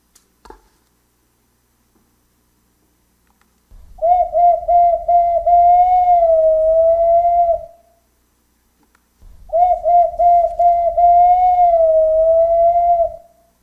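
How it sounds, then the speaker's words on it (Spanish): A whistle, likely an owl-like ceramic or clay instrument, sounds two long, loud warbling tones, each about three and a half seconds, separated by silence. "Este es el sonido del silbato."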